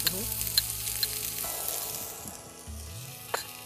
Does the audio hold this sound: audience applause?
no